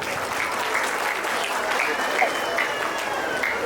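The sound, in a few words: applause encouraging children at abacus demo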